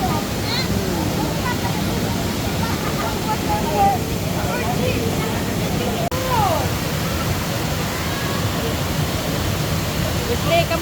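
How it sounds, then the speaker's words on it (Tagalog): Rushing water at Pinlac Falls, a steady broadband roar of falling water close by that runs unbroken throughout, with voices and bird-like calls faintly over it. "Gandang pakinggan ang lagaslas ng tubig."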